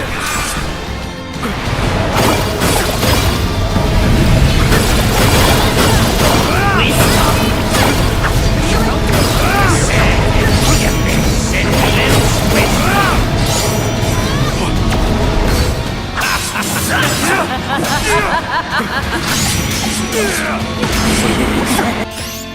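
Space cannon blasts and explosions boom and crash almost continuously during a battle in the video game Visions of Mana, loud and dense, with voices talking over parts of the barrage.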